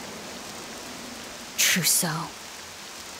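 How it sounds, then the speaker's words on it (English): Steady rainfall hisses as a constant backdrop in the role-playing game Octopath Traveler 2, with a brief louder burst of sound and a spoken voice briefly rising over it midway. "The rain. It's starting to change color."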